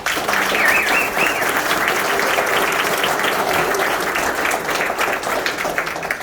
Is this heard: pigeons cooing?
no